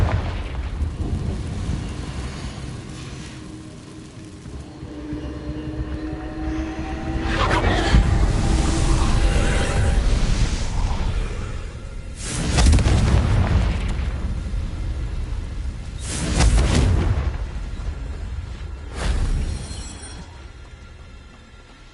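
Confringo fire spell explosions in the video game Hogwarts Legacy: several heavy, rumbling blasts swell and fade at intervals over a steady combat background, with no talking.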